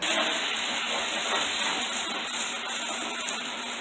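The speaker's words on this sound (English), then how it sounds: "I'm going to add this in, and we will fire it. Oh Lord Jesus, it's a fire." Brandy flambéing in a pan, a loud steady whooshing hiss of flame and sizzle that continues throughout without talking.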